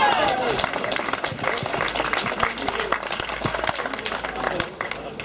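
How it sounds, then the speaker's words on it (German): Applause ripples through a crowd at an outdoor street demonstration, steady clapping with some voices underneath, continuing for several seconds at moderate distance. "Applaus! Applaus!"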